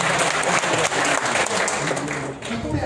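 Dense applause from an audience at a Kenyan political gathering in Murang'a, honoring a member of parliament, a steady loud clatter of clapping with voices mixed in throughout.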